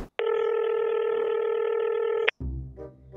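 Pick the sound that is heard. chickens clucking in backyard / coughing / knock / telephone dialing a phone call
telephone dialing a phone call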